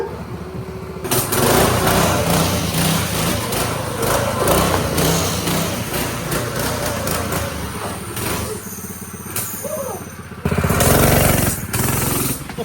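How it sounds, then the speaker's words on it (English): A kid's mini bike engine runs in a high, buzzing drone as he rides up, loud and close throughout with rising and falling revs, briefly swelling louder near the end. "one of the kids is pulling up on his mini bike right now"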